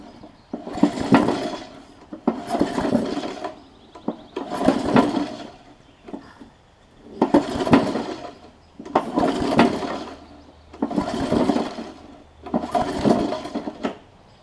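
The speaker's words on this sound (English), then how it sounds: "I got the pull rope on it, got it back on the ground here, so I'm just going to see if it'll crank and run" Repeated pull-starting of a Briggs engine on an old Murray mower, about seven rhythmic cranking pulls spaced roughly two seconds apart, close by, with no talk.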